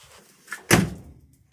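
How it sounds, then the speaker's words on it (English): A car door on a 1960 Ford Galaxie Sunliner shuts with a single loud, solid thunk that rings out briefly, with a softer click just before it. "both doors open like a brand new car"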